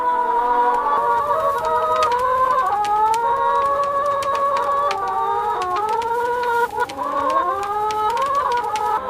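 Free-range chickens on a large farm pasture, a dense flock clucking continuously with overlapping calls, occasional sharp squawks and a distant rooster crow, close and steady throughout.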